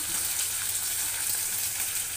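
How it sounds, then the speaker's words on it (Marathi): Mustard seeds crackling in hot oil for a tempering, with cumin, curry leaves and chillies added, for sambar; a steady soft sizzle with fine crackle throughout, fairly quiet and without talk. "तेलामध्ये छान मोहरी तडतडून घेते"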